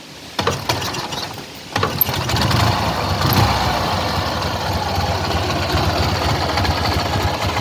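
An old Ural motorcycle engine cranks with a few mechanical clatters, then catches and settles into a steady, close, rumbling idle that continues to the end without talk.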